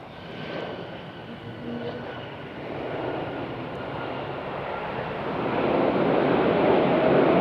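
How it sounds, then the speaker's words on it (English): Delta Boeing 717 jet airliner departing Charlotte airport, a steady broad engine roar with wind buffeting that slowly builds louder toward the end, heard from a distance outdoors. "Delta 717 on departure"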